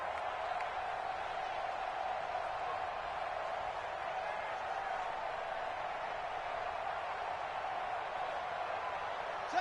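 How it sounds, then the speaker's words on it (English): A steady stadium crowd roars at a Madden 20 football game, a broad, even wash of cheering held at moderate distance for the full length, with no distinct words. "And this crowd into it early."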